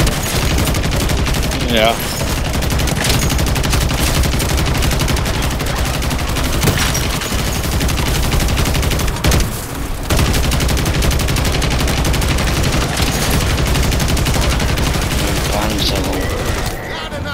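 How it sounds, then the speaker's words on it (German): Heavy gunfire in a Call of Duty Modern Warfare story mission, with a sniper firing across the map. Sharp shots crack and repeat without letup, close and loud, and someone speaks German briefly over them. "Hier schießt ein Sniper über die ganze Map."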